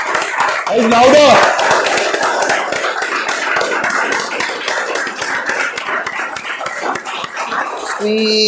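A crowd at a speech contest claps louder on request, a dense, steady wash of hand claps near and loud, with a voice calling out over it at the start and brief talk near the end.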